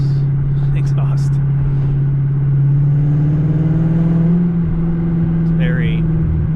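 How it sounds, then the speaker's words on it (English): Big single-turbo Audi S6 car exhaust accelerating, a steady loud low engine drone that swells slightly mid-way, with faint voices talking over it. "Not too sure on how fond I am of the sound of this exhaust."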